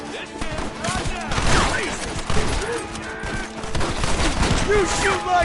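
Gunfire in a Red Dead Redemption shootout in Blackwater: dense, continuous volleys of rifle and pistol shots crackle throughout, loud and close, with shouted voices mixed in.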